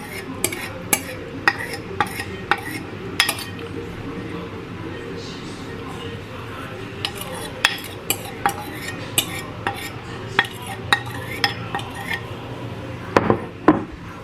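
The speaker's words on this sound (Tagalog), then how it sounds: "Haluin natin maigi" Banana bread batter with melted butter stirred in a bowl, a spoon clinking and scraping against the sides in a rhythmic run of close taps, with a voice heard at times.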